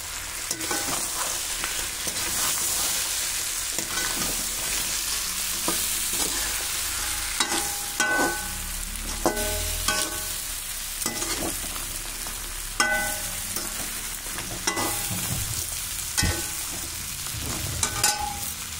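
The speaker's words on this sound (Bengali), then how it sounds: "এবার আমি চিংড়ি মাছটা দিয়ে দুটো নাড়া দিয়ে নারকেলের দুধটা দিয়ে দেবো।" Giant freshwater prawns being stirred into a cooked-down spice masala for a coconut-milk malai curry, sizzling steadily in the pan with repeated scraping stir strokes throughout, close and fairly loud, no talking.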